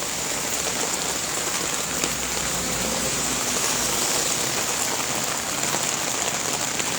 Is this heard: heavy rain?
yes